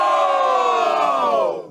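A stadium-style crowd of football fans shouts a single drawn-out answer together, a loud sustained roar of many voices that holds steady and then fades out.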